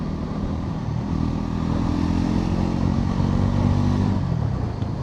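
A 2025 Bajaj Pulsar NS 400Z motorcycle rides at speed, its steady loud engine drone and wind roar continuous throughout, with a slight shift in pitch near the end.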